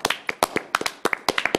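A few attendees at an ethics meeting clap in a small room, sparse and distinct handclaps in quick uneven bursts, close and clear with no talk over them.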